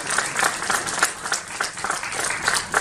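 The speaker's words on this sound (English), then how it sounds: "Once again, round of applause for these esteemed guests." An audience at a business conference in Navi Mumbai applauds the guests, a dense, sustained round of clapping from many hands filling the hall without pause.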